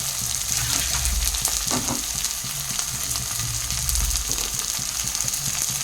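Vegetables for chilli chicken fry in a pan with a loud, continuous sizzle close by and occasional stirring scrapes, under a low background hum, and no voices.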